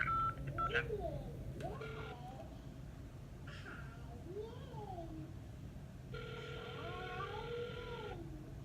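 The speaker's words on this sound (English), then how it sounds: "If you know your party's extension, you may dial it now." Touch-tone keypad beeps dial a phone extension on a law office's automated line, with a short burst at the start and a longer steady tone later, heard over a muffled phone line with warbling voice-like sounds.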